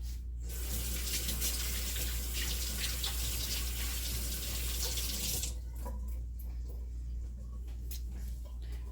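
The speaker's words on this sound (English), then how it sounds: "So let me wash my hands real quick." Hands being washed under a running kitchen tap, with a steady loud rush of water over about five seconds that then drops to a softer trickle and splashing.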